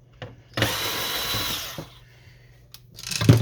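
A power drill whirs for about a second as it backs screws out of an HP Officejet Pro 6830 printer during teardown, with brief short bursts of the motor before and after, close by and fairly loud.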